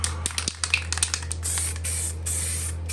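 Spray gun laying a quick pass of etch primer onto a custom Arrma Typhon TLR RC car body, a steady close hiss in several short bursts over a low background hum.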